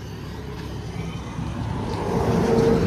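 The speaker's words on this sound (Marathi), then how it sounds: "आवाज आला गाडीचा त्याच्यात" A vehicle engine drones and rumbles low and close, growing gradually louder over a few seconds, with no talking.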